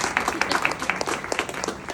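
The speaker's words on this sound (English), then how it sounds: "Everyone give themselves a round of applause, please." At a live art performance event with Wilson Football and the NFL, an audience claps steadily in a brisk, dense burst, a bright crackle of many hands with a faint cheer.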